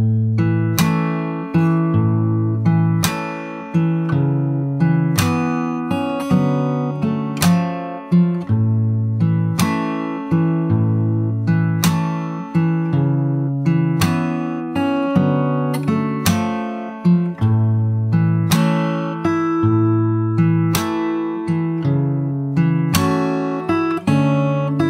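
Slow fingerstyle acoustic guitar verse, plucked chords and picked notes ringing in an even, unhurried rhythm, close and clear with no voices.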